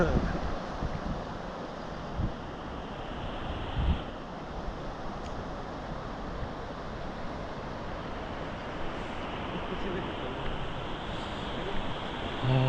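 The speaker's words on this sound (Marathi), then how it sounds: "तुफान पाणी चालू आहे" Continuous rushing floodwater after heavy rain roars steadily, a broad hiss with faint talk in the background.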